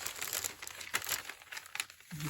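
Fabric laid down and smoothed onto crinkly freezer paper for a junk journal craft, giving a close, continuous papery crackling and rustling with a few sharper crinkles.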